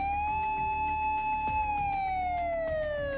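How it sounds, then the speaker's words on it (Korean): A Monatium A-class emergency siren in the game Trickcal Revive, a steady loud wailing tone sliding slowly up and down, sustained alone with faint rhythmic thuds beneath. "모나티엄의 비상 사이렌? A급이군요."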